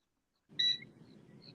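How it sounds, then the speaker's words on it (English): An alarm system gives a short electronic beep, a bright tone lasting a fraction of a second. It sits over a low, muffled rumble of background noise that carries on afterward, with a fainter beep following. "It's like a alarm system."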